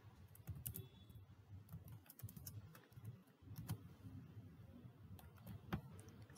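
Quick soft keystrokes patter on a computer keyboard in uneven bursts with brief pauses, close and quiet over a faint low room hum, with no talking.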